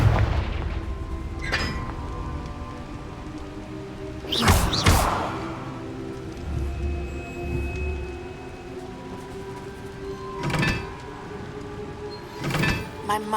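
A Confringo explosive spell blast in a fantasy wizarding video game, a loud sudden boom burst near the midpoint followed by later sharp impacts, set against a steady game ambience with occasional background sounds.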